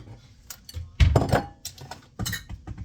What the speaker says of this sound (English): Now you're going to dump it in a bowl.